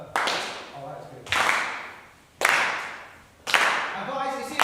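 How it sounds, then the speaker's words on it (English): A group claps in time during a devotional dance gathering, four sharp bursts of hand claps about a second apart, with voices talking and singing faintly underneath. "We're going to clap as well."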